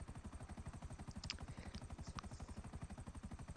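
A helicopter in the video game GTA gives a steady, fast rotor thump that pulses evenly and close throughout, with a few faint clicks above it and no talk.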